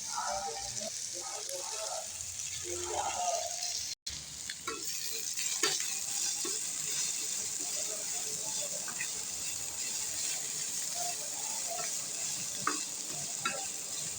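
Garlic sizzles steadily in hot oil in a pan while cooking a tilapia fish dish, with stirring scrapes and a brief cut in the sound partway through.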